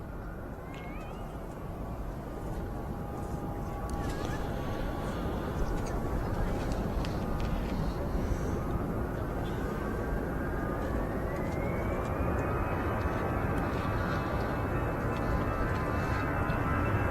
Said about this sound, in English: EasyJet on the taxi onto the runway now,